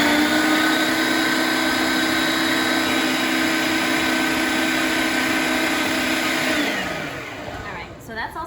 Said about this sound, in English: I'm just gonna whiz them up in my food processor.